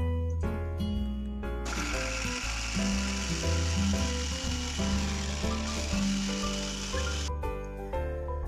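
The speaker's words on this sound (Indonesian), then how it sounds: "Langsung kita blend aja sampai halus." A kitchen blender grinds chili, candlenut and ginger, its loud, steady motor whine and gritty churning running for several seconds, then cutting off, with clattering handling before and after.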